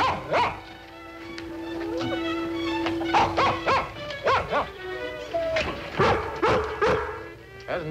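A dog crated indoors barks in short yips and whimpers repeatedly, close and insistent, with a voice speaking under the noise.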